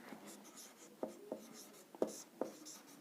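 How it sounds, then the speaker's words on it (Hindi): Chalk or marker writing on a classroom board during a Hindi grammar lesson, a quiet scratchy texture broken by several sharp taps and strokes, close and without talk. "और वाक्य बनाकर लिख देता हूं यहां पर"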